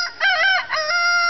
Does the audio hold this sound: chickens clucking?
yes